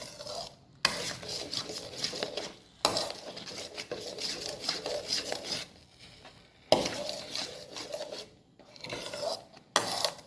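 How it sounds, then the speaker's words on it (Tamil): Almond halwa with saffron is stirred continuously in a pan, close scraping and rasping of a spoon against the pan in long bursts separated by brief pauses, with no talking. "அப்படியே பாதாம் பருப்பு வந்து நல்லா கெட்டி ஆகிற வரைக்கும் விடாமல் கிண்டிக்கிட்டே இருக்கணும்"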